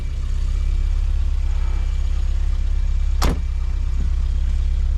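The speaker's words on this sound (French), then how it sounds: "Les bons bruits, sons des moteurs anciens." A 1982 Porsche 924 engine idles loudly and evenly, with one brief sharp click or knock partway through.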